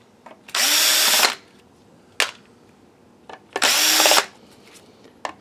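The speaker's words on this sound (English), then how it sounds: "And let's get these screws out." A power drill backs screws out of an InFocus IN119HDx projector in two separate loud whirring bursts of about a second each, with small clicks and handling noises between them and no speech.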